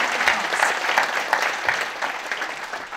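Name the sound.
audience applause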